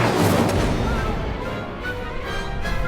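Incendio fire spell cast in the video game Hogwarts Legacy, a dense roaring burst of fiery crackle and booming blasts filling the whole moment, loud and continuous without pause.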